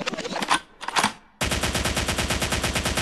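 Gunfire sound effect within a slowed, reverb-heavy hip-hop track: a couple of loud echoing shots, a brief gap, then a sustained rapid machine-gun burst that runs steadily to the end over the music.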